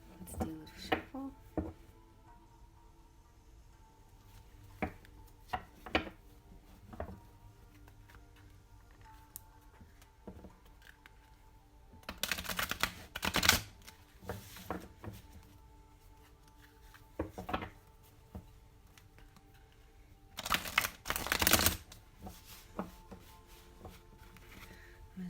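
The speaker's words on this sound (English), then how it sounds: "Let's do a little shuffle." A Victorian Romantic Tarot deck shuffled by hand during a reading, heard as soft papery riffles and taps with two louder shuffling bursts, quiet and close in a hushed room.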